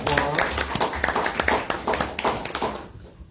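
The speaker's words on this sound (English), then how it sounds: "Round of applause." Audience applause at an astronomy club meeting, a dense patter of many hands clapping at close range with a few voices mixed in, fading out toward the end.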